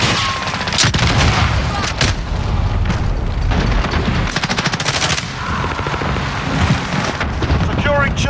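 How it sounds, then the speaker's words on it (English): Heavy in-game combat from Call of Duty Modern Warfare (2019) multiplayer during an allied cruise missile strike, with sustained loud rumbling booms and rattling machine-gun fire filling the whole stretch without pause. "Allied cruise missile away."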